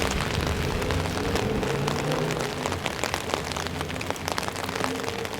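Heavy rain falling in a city street in Halifax on a dark early afternoon, a steady dense patter and splash of drops on the pavement and surfaces, loud and continuous throughout with no voices.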